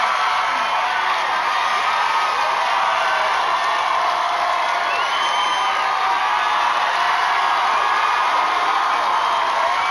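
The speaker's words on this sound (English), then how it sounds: "Oh my God, the noise is unbelievable. The crowds, they love him." A live studio crowd at a TV reality show final roars and cheers continuously, a loud sustained wash of shouting and whooping with no break across the whole stretch.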